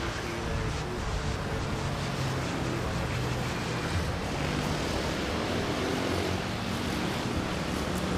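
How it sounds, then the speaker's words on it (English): An airliner takes off at Manila Airport, and its engines give a loud, steady broadband roar that holds at the same level throughout, with no voices on top. "Back-to-back takeoffs."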